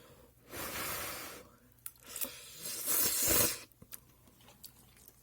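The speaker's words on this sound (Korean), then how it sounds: "다시 한번 먹어보겠습니다." Paldo Samseon jjajang instant noodles are eaten up close, with soft slurping and chewing in two main bursts, short breaths and small mouth clicks between them, fairly quiet overall.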